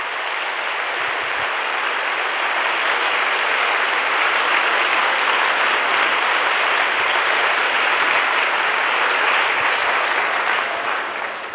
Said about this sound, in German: Und der zweite Applaus, aber nicht minder.